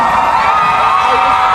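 A loud convention crowd at Dubai Pop Con cheers and whoops in a sustained roar, keeping a dense, unbroken wall of noise across the whole moment.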